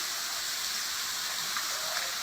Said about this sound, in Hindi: देखिए झर झर करके झरना बहता हुआ पर्वत से गिरते हुए पानी